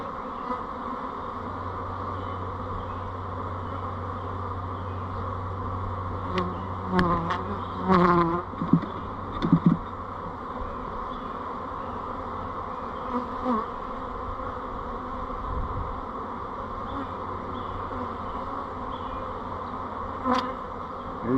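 Honeybees being shaken off brood frames to make nucs fill the air with a dense, continuous buzzing swarm drone. It is loud and close throughout, with brief bumps and knocks from the frames partway through.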